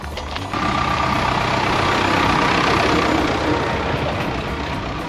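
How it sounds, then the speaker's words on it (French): Tractor engine running steadily on the island of Sark, a loud continuous rumble with a faint tonal whine throughout, no voices. "À Sarcques, c'est le paradis du tracteur"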